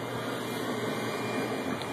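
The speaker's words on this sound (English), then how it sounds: "now I'm using the blower" An old salvaged blower fan runs steadily on a homemade Turk burner heater, producing a loud, continuous broadband whoosh with a constant low hum and no change across the span.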